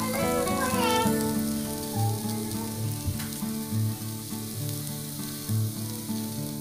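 Corn kernels sautéing in a pan, a steady close sizzle with occasional stirring scrapes and soft bumps, with faint background voices of children.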